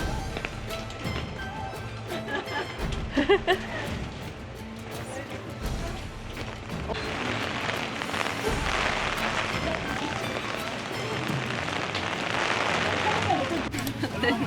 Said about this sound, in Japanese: 雨だ。 あ、びちょびちょ。